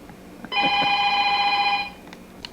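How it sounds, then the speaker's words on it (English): A home telephone bell rings in one steady trilling burst of about a second and a half, moderately loud indoors, with faint household clicks around it. "Oh, and there's the phone ringing."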